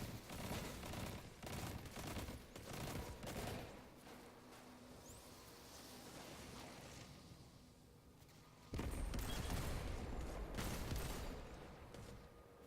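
Gunfire in the Destiny video game, dense rapid volleys of shots with blasts, loudest at the start and again near the end and easing in the middle, with no talking.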